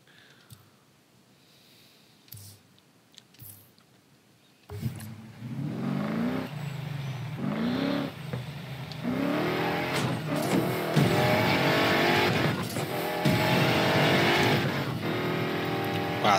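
A '65 Ford Mustang in Need for Speed Payback starts after a few quiet clicks, then its engine roars up loud and close through rising gear pulls with rhythmic revving that continues to the end.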